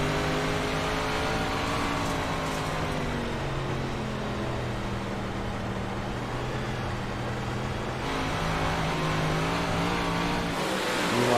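Race car engines on a dirt or short track during a memorial racing event, a sustained loud rising and falling engine drone as the cars accelerate and ease off throttle, continuous throughout.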